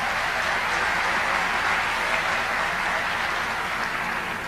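An audience claps for event sponsors at a lecture on Benoit Mandelbrot and fractals: a dense, even wash of applause that holds at a constant level throughout, with no individual claps standing out.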